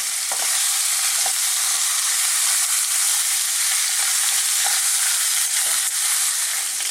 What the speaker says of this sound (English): these have fairly rigorously been frying and they're browning beautifully now